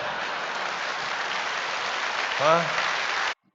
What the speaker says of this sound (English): Look at all that clapping.